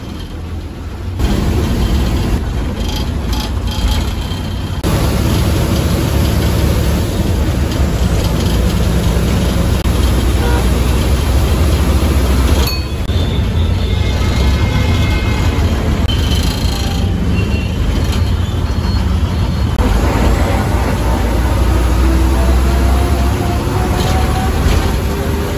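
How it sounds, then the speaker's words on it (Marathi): An MSRTC Hirkani intercity bus on the Ahmednagar–Surat route idles at a depot in a steady, continuous diesel rumble. Talk is heard at moments over the engine. "हे बघा ही समोरची अहमदनगर सुरत गाडी"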